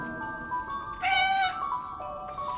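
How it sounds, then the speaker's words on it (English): A cat meowing in the WWI video game Memories Retold, a couple of plaintive calls, one louder and one softer, over sustained musical tones. "Why is that cat meowing?"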